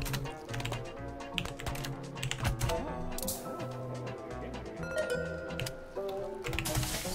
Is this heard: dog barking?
no